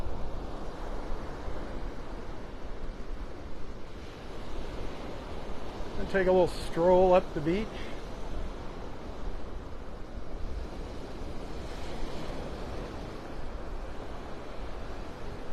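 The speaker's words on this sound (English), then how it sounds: "that surf is kicked up again today" Rough ocean surf on a beach in North Naples, Florida washes steadily in the background while someone talks over it, with wind adding a broad hiss.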